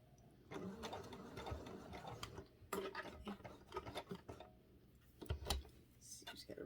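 A sewing machine stitches a sock toy shaped like an owl or cat in uneven, stop-start bursts of whirring and clatter, close by.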